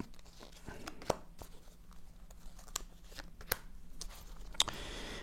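Playing cards shuffled, handled and laid down on a table, soft scattered flicks and taps with a few sharper snaps, quiet and close with no talking.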